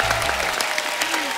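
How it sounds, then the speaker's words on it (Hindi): A studio audience at a television comedy show applauds loudly and continuously, a dense wash of clapping with faint voices mixed in. "अटैक के लिए जोरदार तालियां हो"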